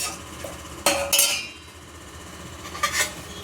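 A spoon scrapes and clinks against a pot while the mixture for gulab jamun is stirred on the stove, with a few sharp metallic knocks spread through an otherwise quiet stretch.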